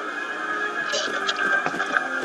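Horses whinny and neigh in a Mount and Blade Warband tournament horse fight, with a few short calls and clattering bursts over steady game background noise.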